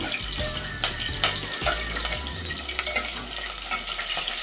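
Garlic, cinnamon and cloves frying in oil for chicken pulao produce a close, steady sizzle, broken by a few sharp stirring clinks and a low hum underneath, with no talking.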